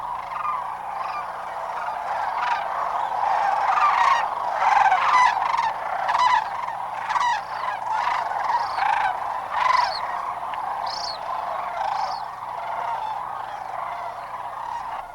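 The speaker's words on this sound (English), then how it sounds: "wave after wave of cranes descend upon the river with the gathering dusk. Their primeval clamor echoes back 9 million years" Large flocks of cranes call together at dusk on a river, a dense continuous clamor of overlapping trumpeting and honking voices, loud and steady throughout without any speech.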